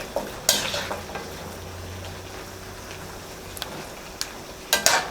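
Carrots and mixed vegetables stirred in a pan with imitation crab meat and fishballs under a steady low sizzle, with a few scraping utensil knocks at the start and end.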